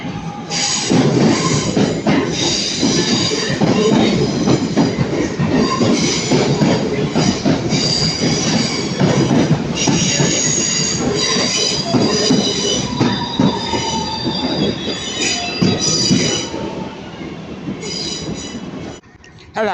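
Northern class 323 electric unit 323208 at Manchester Piccadilly station, rolling through with loud, sustained wheel squeal and rail rumble close by, continuous for the whole stretch with no talking.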